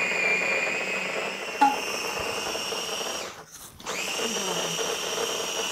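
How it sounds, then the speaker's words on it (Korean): An electric chopper grinds apples and onions for kimchi, its motor spinning with a steady high whine nearby that briefly dips and drops out before starting up again. "이게 이제 누다 기가 윙 돌아가면서 사과랑 양파를 되게 잘게 썰어줄 거야."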